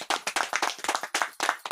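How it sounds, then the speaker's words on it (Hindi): A meeting audience gives loud, vigorous applause to welcome new attendees, sharp overlapping claps in quick bursts, close and full, with no talking over it. "जोरदार तालियों के साथ।"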